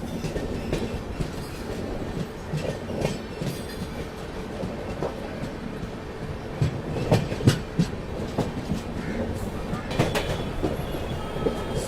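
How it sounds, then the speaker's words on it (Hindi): Goa Rajdhani Express train pulling out of Surat station on the Western Railway, steady rhythmic clickety-clack of wheels over rail joints with rumbling carriages, close and continuous, occasional louder clacks and faint wheel squeal. "चलिए अपना डिपार्चर सूरत स्टेशन से हो चुका है"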